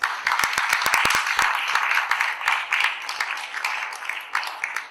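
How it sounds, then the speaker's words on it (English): Dense, steady applause from an audience at a 2016 JCDC panel on at-risk youth, greeting visiting programme members; many sharp claps blend into a continuous wash that stays loud through the whole stretch. "A round of applause for them, please"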